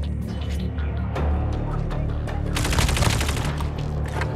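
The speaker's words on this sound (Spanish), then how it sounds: "Disparo y controlo su retroceso con gran facilidad." Type 19 rifle gunfire in a first-person shooter video game: bursts of rapid automatic shots, first a few scattered reports, then a dense sustained volley of cracks toward the end.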